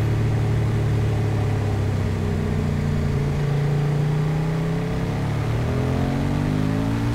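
A KTM 1190 RC8 R motorcycle runs on a race circuit with a loud, continuous engine drone whose pitch rises steadily near the end as it accelerates, and no voices.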